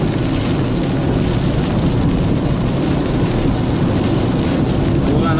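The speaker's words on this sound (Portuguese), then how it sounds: "Pior que tá chovendo assim," Steady rain pours in Cajueiro, Alagoas, Brazil, a dense continuous hiss with a low rumble underneath, loud and unbroken throughout.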